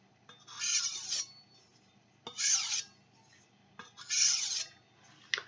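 A knife is drawn across King 1000 and 6000 grit whetstones in three separate gritty scraping strokes, each about half a second long with short quiet gaps between, close and fairly soft.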